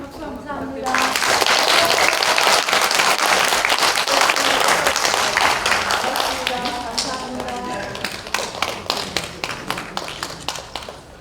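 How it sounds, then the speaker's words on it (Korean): Audience applause in the National Assembly conference hall at a Korean women's convention event, with dense sustained clapping that rises quickly, holds steady and loud, then thins into scattered claps near the end. "수고하신 우리 손인주 위원장님한테 큰 박수 한번 부탁드립니다."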